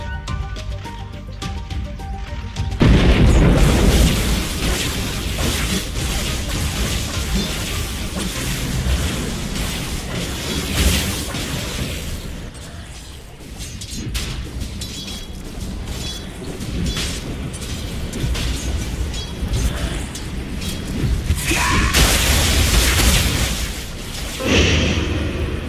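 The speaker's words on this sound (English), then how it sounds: "Radiant's bottom tower under fire." Dota 2 battle at a bottom tower under attack: continuous loud game sound with booming impacts, whooshing spell effects and bursts layered over music for the whole stretch.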